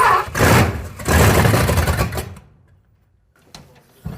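A 440 big-block V8 swapped into a Suzuki Samurai cranking over loudly for about two seconds, then near silence before a brief cough of noise at the end.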